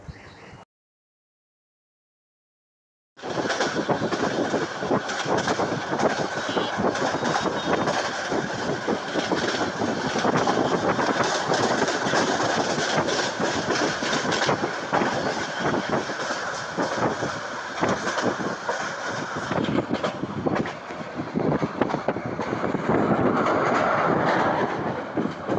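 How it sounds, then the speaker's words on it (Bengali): The Mahanagar Prabhati Express train gets under way toward Akhaura, heard from on board. After a brief silence a steady, loud rumble and wheel clatter come in and continue unbroken to the end. "আমাদের মহানগর প্রভাতী এক্সপ্রেস ট্রেনটির বিরতি কার্যক্রম শেষ হওয়ার পর এখন আমরা রওনা হচ্ছে আখাউড়ার উদ্দেশ্যে"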